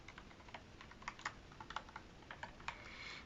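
Light, quiet taps on a HIWING HI300 one-handed mechanical gaming keyboard with blue switches give soft, irregular clicks, a dozen or so faint keystrokes in a row with nothing else heard.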